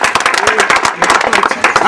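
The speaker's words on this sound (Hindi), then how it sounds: "समस्त सहयोगियों से अनुरोध है कि तालियों के साथ जोरदार स्वागत किया जाए।" Loud, close applause from gathered colleagues welcoming guests at a reception ceremony, many hands clapping in rapid, irregular bursts with some crowd voices.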